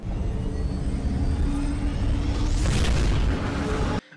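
A time warp sound effect: a dense, roaring whoosh swells and sweeps upward in pitch, building to a bright rushing peak before cutting off suddenly.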